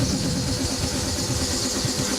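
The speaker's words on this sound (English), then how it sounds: "Hook them up to this compressor." An 8 CFM air compressor runs steadily, a continuous mid-loud motor drone with a low pulsing rumble and no pauses.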